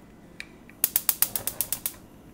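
A stove heat knob is turned to its high setting with a quick run of about nine crisp ratcheting clicks, close and clear against a quiet room, after two faint ticks.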